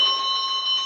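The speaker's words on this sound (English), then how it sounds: "Using the chimes as his guide, Pinocchio made his way to class." Chimes ringing in a steady sustained bell-like tone with layered bright overtones, moderately loud and held for under a second, without any voices.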